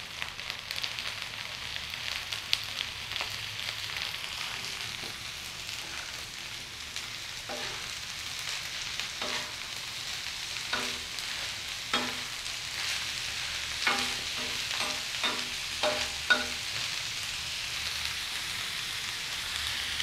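Liver sizzles and fries on a tawa with a steady hiss like light rain, and occasional scraping and stirring knocks from a spatula against the pan throughout, with no talking.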